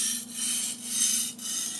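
A Shun kitchen knife blade drawn across a sharpening stone in steady back-and-forth strokes, a close, even scraping hiss with brief dips between three or four passes.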